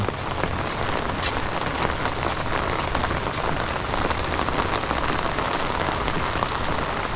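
Steady, dense rain pattering on a surface during a typhoon, a continuous broadband hiss with scattered drop impacts, no voices.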